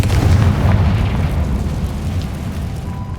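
A Confringo blasting spell explodes in Hogwarts Legacy, a loud booming burst with a heavy low rumble that rolls on and slowly fades over a few seconds.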